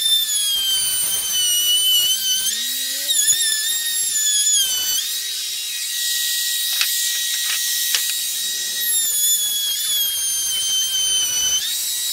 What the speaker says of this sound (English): I'm gonna take my router and route a groove inside of both of them